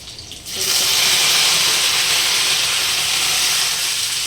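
Garlic dropped into hot oil bursts into a loud, even hiss that starts suddenly and holds steady and close for several seconds, with no voices over it.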